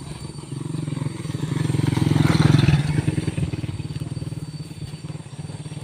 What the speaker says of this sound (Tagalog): Ay mayroon palang tao sa likod ko guys. Pero ano motor lang.